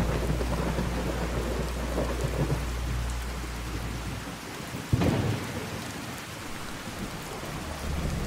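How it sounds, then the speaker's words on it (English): Rain and a thunderstorm in the Fallout 4 video game: steady heavy rainfall with deep rumbling thunder, a sharp crack around the middle, then continued downpour and low rumbles. "I don't know why I enjoy playing with the rain and the storm on so much"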